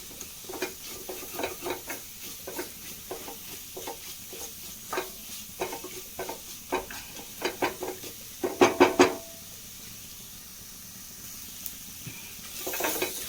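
Spice powder mixture being stirred and sautéed in a little oil, a rhythmic series of spatula scrapes and taps against the pan over a quiet sizzle, with a brief clatter of rapid knocks.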